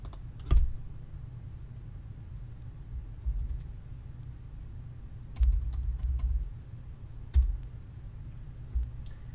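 Someone is typing a vendor number on a computer keyboard in a quiet office: a few separate clusters of soft key clicks and taps spread out over several seconds, with no talking.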